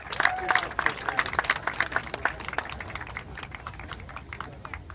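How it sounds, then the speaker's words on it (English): Crowd applause and scattered clapping at an outdoor rally at the US Capitol in Washington, D.C., a dense patter of claps that peaks early and then tapers off, with a few voices mixed in. "Let's give him a round of applause."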